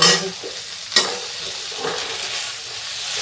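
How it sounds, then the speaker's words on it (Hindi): A spatula scrapes and tosses food being dry-roasted crisp in a pan, with a sharp clatter at the start and near the one-second mark over a continuous light sizzle, close and fairly loud, with no voices. "सलाद हम करारी भूनेंगे।"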